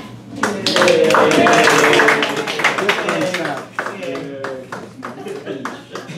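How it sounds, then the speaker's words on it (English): An audience at a club election meeting breaks into scattered clapping under someone talking, the claps sparse and uneven, close, rising briefly and then thinning out. "Let's give a better applause."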